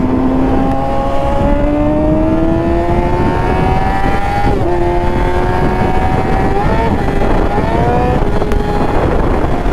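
Motorcycle with a slipping clutch ridden around town, the engine note rising and sagging in long sweeps without matching pull, loud and close with steady wind rush and no talking.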